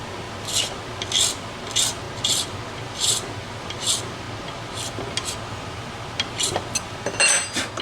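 A bone guitar nut for a vintage Hohner Shark Fin guitar has its edges filed, giving repeated close rasping strokes in an even rhythm, then a few quicker scrapes and light clinks near the end; nobody speaks.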